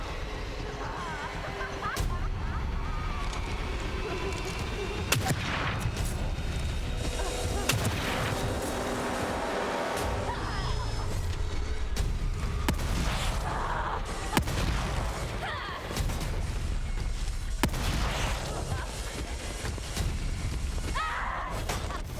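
Gunfire in The Evil Within 2 horror game, sharp shots cracking out at intervals over a dense, rumbling game soundscape, with a player's voice talking at times.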